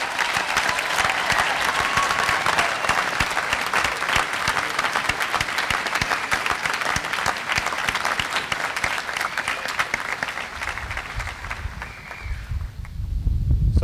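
Sustained applause from a large crowd at a school Founders Day graduation ceremony, steady and full for several seconds before tapering off near the end.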